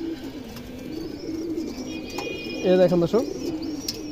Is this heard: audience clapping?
no